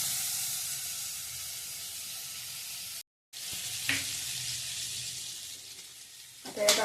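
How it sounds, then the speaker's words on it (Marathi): Butter melts in a hot kadhai at the start of a street-style paneer ghotala, giving a steady broadband sizzling hiss that breaks off briefly midway and resumes with a few sharper spits near the end. "कढई गरम झाली, आपण यात बटर टाकून घेऊया।"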